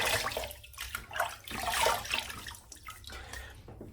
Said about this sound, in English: So I'm going to wet my face, cold water shave.